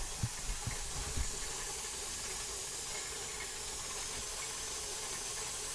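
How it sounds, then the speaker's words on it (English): A pressure canner vent lets out a steady, continuous hiss of steam while potatoes are being canned, after a few soft knocks at the start; the sound is close and even. "I'm getting a steady stream now, and I can hear the steam coming out."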